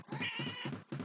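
Repeated cat meows from the video game ZAMN Bread, four close, loud calls in a steady rhythm with short gaps between them, heard alone without talk.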